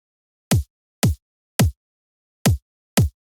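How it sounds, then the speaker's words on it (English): Dry, unprocessed drum and bass kick drum: six isolated, deep thumping hits spaced roughly half a second apart, each short and punchy with a quick pitch drop, loud and close against silence. "So without effects, the kick sounds like this."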